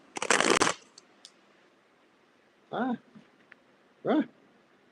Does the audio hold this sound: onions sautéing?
no